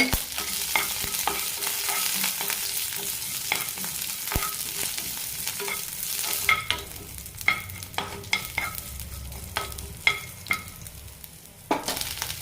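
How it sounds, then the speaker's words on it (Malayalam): Garlic cloves, slit green chillies and a small piece of ginger frying in a pan, a soft steady sizzle broken by frequent scraping clicks of a spoon stirring, close and without voices. "ഇനി ഇതിലേക്ക് അഞ്ച് വെളുത്തുള്ളി അരി ഇടാം കൂടെ തന്നെ രണ്ട് പച്ചമുളക് കീറിയത് ചെറിയൊരു കഷ്ണം ഇഞ്ചിയും"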